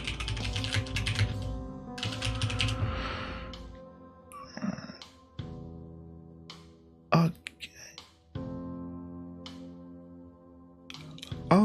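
Computer keyboard typing comes in dense clattering bursts at the start, followed by scattered single key hits and other sounds, with a voice present throughout.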